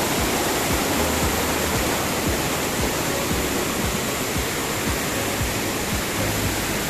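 Busay Falls in Sorsogon pours down in a steady, dense roar of falling water, loud and close, with no break across the whole stretch.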